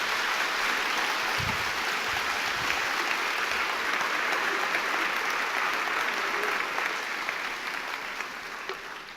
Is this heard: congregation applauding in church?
yes